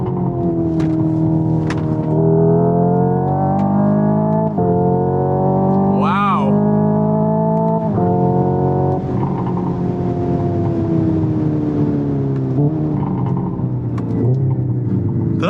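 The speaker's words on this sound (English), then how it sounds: "Pops and bangs." A 2025 Hyundai Ioniq 5 N's synthetic engine roar climbs and holds at high revs on a track, with crackling pops and bangs breaking through, while someone talks over it.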